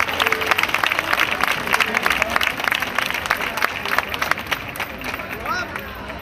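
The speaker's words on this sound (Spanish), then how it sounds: "Reciban con un fuerte aplauso a Marina Jiménez, la representante de Bezmar." Festival audience gives loud, sustained applause for an 18-year-old pageant representative at a town celebration, with cheering and crowd chatter mixed into the dense clapping.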